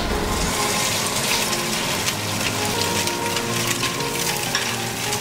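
Sea-salt-seasoned snapper fillets sizzle in a hot pan, a steady, close crackling hiss that carries on evenly without pause and with no talking.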